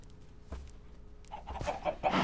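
Chickens cluck in a simple incubator built in a video game: scattered soft clucks at first, then a busier, louder run of overlapping clucking toward the end.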